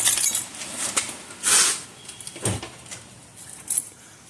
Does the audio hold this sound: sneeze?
no